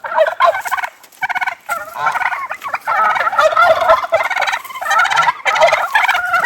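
A turkey hen gobbles in rapid, rattling bursts that continue nearly nonstop, loud and close, with brief pauses between calls.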